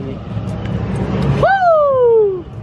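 A Ford Mustang with its muffler removed revs once, loud and close, the raw exhaust note rising sharply and then winding down over about a second after a stretch of rumbling background noise.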